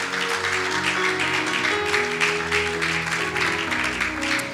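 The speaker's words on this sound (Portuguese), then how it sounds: "Uma linda salva de palmas para o Senhor" Church congregation clapping for the Lord, a dense sustained round of applause from many hands over a held musical tone, continuous from start to finish.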